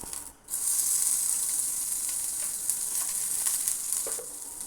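Finely chopped onion sautéing in a pan: a dense, steady hiss of frying that starts abruptly after a brief quiet moment and holds loud and close, with faint stirring scrapes near the end.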